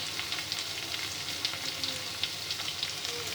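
Chopped potatoes frying in a pan give a continuous soft sizzle and crackle, with light scattered pops, fairly quiet and even throughout.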